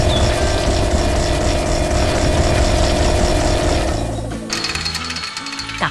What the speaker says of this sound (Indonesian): Bor itu sedang bekerja keras menggali tanah, mengguncang bumi dengan suara bisingnya.